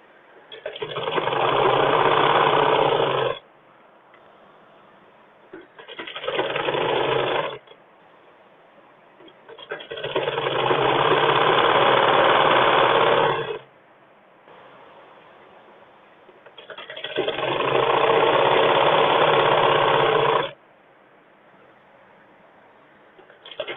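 A sewing machine stitches the left side seam of a school uniform skirt in four bursts of steady, buzzing run, the loud whirring stopping and starting with short quiet pauses between seams.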